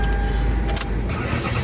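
A car engine keeps running steadily after the ignition key is pulled out, a close, continuous idle rumble with a brief metallic jangle of keys partway through.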